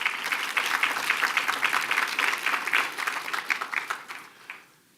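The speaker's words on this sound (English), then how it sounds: "Please give them a round of applause." An audience applauds at a community alliance event, dense, steady clapping that carries on for several seconds, then thins and dies away near the end.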